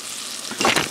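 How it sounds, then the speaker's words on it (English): Butter melting in a pot sizzles and crackles briefly up close, the frying hiss swelling sharply toward the end. "I've got butter"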